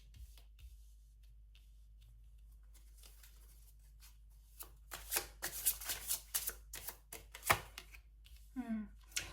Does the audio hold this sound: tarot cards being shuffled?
yes